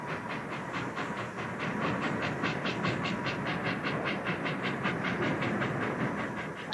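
A train running on a railway, with a steady rolling rumble and a regular clickety-clack of wheels over rail joints, even and sustained throughout at moderate distance.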